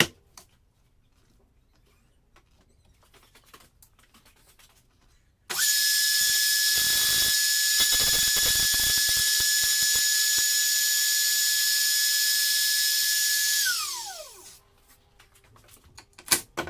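A handheld router cuts wood on a homemade jig for shaping an archtop guitar tailpiece, starting abruptly in a quiet room, holding a loud steady high whine for about eight seconds, then winding down as it is switched off.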